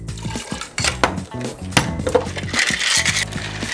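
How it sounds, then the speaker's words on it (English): A metal shaker tin packed with ice is shaken hard while mixing a holiday lemon drop cocktail, producing a loud, rapid, rhythmic rattle and clatter of ice against metal that continues throughout. "Cap that off into a shaker tin full of ice and give it a good shake."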